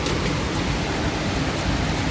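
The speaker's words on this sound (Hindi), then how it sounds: "बहुत तेज़ आ रही है यार बारिश" Heavy rain pouring outside a window, a dense, steady broadband hiss that holds evenly for the whole stretch with no voices.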